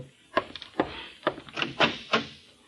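Knocking at a door in an old-time radio detective drama: about six dull, hollow wooden raps in an uneven rhythm, close and fairly soft, with no voices over them.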